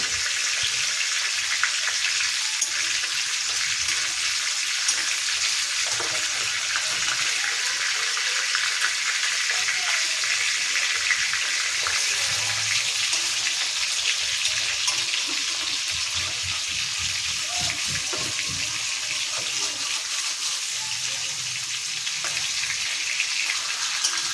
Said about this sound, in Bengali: মাছটা এখন ভাজা চলছে